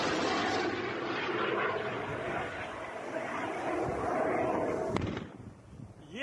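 During a combined air attack, a kamikaze drone drones overhead with a steady engine roar and rumbling noise, interrupted near the end by a sharp bang before the sound drops away.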